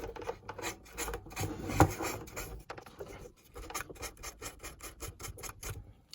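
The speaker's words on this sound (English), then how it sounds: "Not too much, just a bit of very fine sandpaper." Very fine sandpaper rubs the contacts in a battery compartment of a 1980s Grandstand Firefox F-7 handheld electronic game, a close, steady rasping of quick back-and-forth strokes with short pauses.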